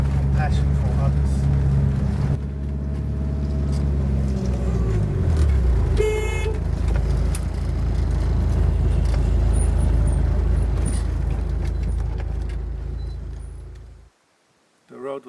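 Car cabin road rumble with low, heavy engine drone and jolts from a bumpy surface, continuous and close, with a brief high horn-like tone, ending in a sudden drop to near silence.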